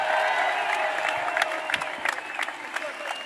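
A downtown parade and celebration for the Tennessee Volunteers championship baseball team draws a crowd that claps and cheers steadily, with scattered sharp nearby claps and whoops and a tonal hum running under the noise.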